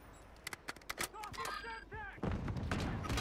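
Gunfire in a first-person shooter game, with a rapid string of sharp shots followed by denser, heavier firing, and voices talking over the action.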